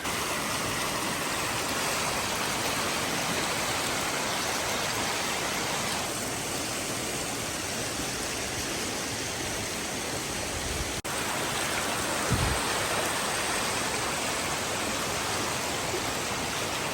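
Creek water rushes continuously at McConnells Mill State Park in winter, a steady broadband hiss of flowing stream close by, alone without talking.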